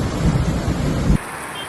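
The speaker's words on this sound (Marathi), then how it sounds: "आज झालेल्या ढगफुटी सदृश्य पावसाचा हा एक व्हिडिओ आहे" A cloudburst: heavy rain roars with deep thunder rumbling close by, then cuts off abruptly to a quieter hiss of rainfall.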